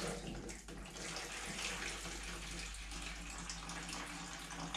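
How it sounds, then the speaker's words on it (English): Steady rushing and splashing of water pouring out of a disconnected washing machine waste pipe, continuous and fairly close, with no talking. "there will be a bit of water come out."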